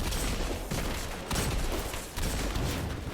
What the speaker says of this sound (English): That is a perfectly horrible grenade throw.